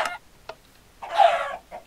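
Minecraft chickens give a few short, soft clucks, then one louder drawn-out cluck near the end, heard alone against near silence.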